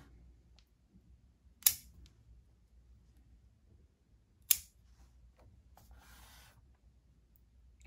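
Pruning shears snip through branches of a small-leaved jade plant, two sharp cuts a few seconds apart, close and fairly quiet, followed by softer rustling of handled stems.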